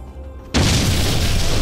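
A planted bomb goes off in a Hindi-dubbed Puneeth Rajkumar action film, a sudden loud boom after a quiet moment that holds as a dense roaring blast to the end.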